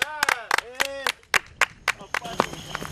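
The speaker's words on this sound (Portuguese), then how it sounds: "Palmas para o Aldo." A small group on a film set for a making-of shoot about the Juazeiro sedition claps for Aldo, about a dozen sharp, fairly rhythmic handclaps close by, with talk mixed in at the end.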